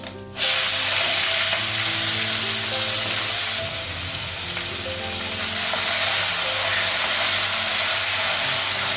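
Onion frying in a pan gives a loud, close, continuous sizzle that dips briefly midway and then builds back up.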